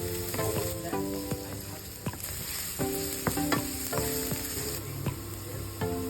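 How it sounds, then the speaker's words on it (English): Onion, ginger and garlic sauté in a pan for a fish curry, a steady close sizzle broken by repeated scraping and stirring clatters from a utensil. "in the pan, we saute onion,"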